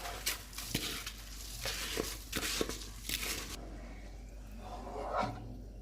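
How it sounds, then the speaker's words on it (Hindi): Dry rice poured into a pot of chicken kabsa, a few grainy rattling bursts and clinks in the first half, then quieter simmering with a brief stir near the end. "अब इसमें हम चावल डाल देते हैं।"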